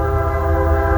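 Train horn blaring loud and steady, with sustained harmonic tones over a low rumbling rail roar from a nearby train passing throughout.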